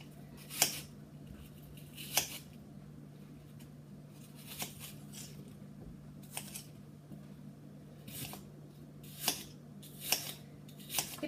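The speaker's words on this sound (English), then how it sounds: "you can just hear them as you're cutting them, the crispness of them" Crisp salad vegetables being cut with a knife, a series of sharp crunching chops at uneven intervals over a low steady hum, close and clear.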